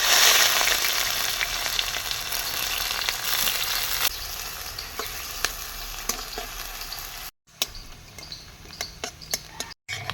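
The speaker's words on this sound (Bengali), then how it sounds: "পেঁয়াজ লাল লাল করে ভাজা হয়ে গেছে" Onions with dried red chilli, cumin and whole garam masala sizzling steadily in hot mustard oil, a loud continuous fry with occasional stirring clicks of a utensil against the pan.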